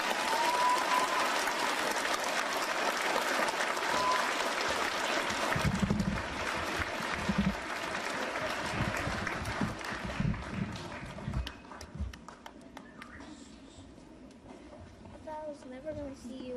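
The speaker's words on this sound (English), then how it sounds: "Give him another round of applause." Applause from a gathered audience welcoming home a returning soldier at a family reunion, a steady dense clatter of clapping mixed with cheering and overlapping voices, thinning out in the later seconds as talk takes over.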